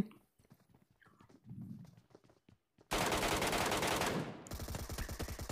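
Gunfire in a mobile battle royale game played on an iPad Mini 5: after a quieter stretch with faint voice-like sound, a loud sustained burst of automatic fire erupts, then continues as rapid rhythmic shots.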